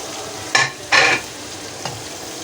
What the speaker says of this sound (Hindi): अब मैं इसमें अपना मटन डाल दूँगी।